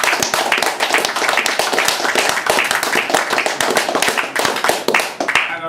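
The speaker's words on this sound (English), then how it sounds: "Please a round of applause." Audience applause at a poetry reading in a London pub, with dense, steady clapping from a room of listeners that holds strong for several seconds.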